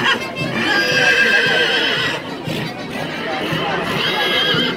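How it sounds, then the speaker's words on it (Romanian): Heavy draft horses neighing in a loud, drawn-out whinny close by, with people talking over it throughout. "Cai grei,"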